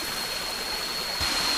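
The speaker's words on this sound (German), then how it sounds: "Das ist jetzt das Ende vom Wasserfall." Waterfall on Koh Phangan, Thailand, heard near its upper end by a small pool: a steady, broad rush of falling water, continuous and fairly loud, swelling slightly toward the close.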